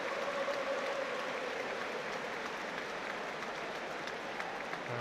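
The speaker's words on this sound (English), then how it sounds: "Joe Linton applauded off." Sustained applause from a Premier League stadium crowd at a Newcastle United versus Liverpool match as Joe Linton leaves the pitch, a steady broad wash of clapping and crowd noise lasting throughout.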